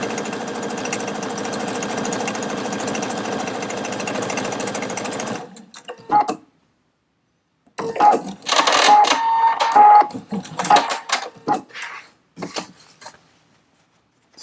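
A Pfaff Quilt Expression 720 sewing machine stitches a stretch buttonhole in a fast, steady mechanical rattle, then stops; afterward comes a series of short, irregular bursts of stitching, close and loud.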